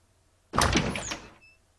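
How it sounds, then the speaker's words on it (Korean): A bedroom door is flung open as a sound effect: one sudden, close, loud swinging whoosh and thud lasting under a second, heard alone against near silence. "용기를 내어 방문을 벌컥 열었습니다."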